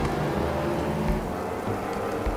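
Steady rain hiss in the motorcycle racing game Ride 4, a dense, even wash of noise with a low rumble underneath, continuous throughout with no voices.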